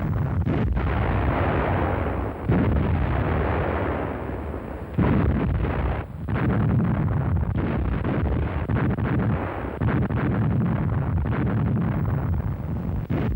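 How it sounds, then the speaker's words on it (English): German 21 cm Mörser heavy howitzers fire alongside 150mm heavy artillery, 105mm guns and Flak 88s in autumn 1943, a series of loud booming blasts rolling over one another with rumbling, wind-buffeted noise between. "this sequence shows a 21-centimetre Mirza operating alongside 150mm heavy artillery, 105mm medium guns and Flak 88s"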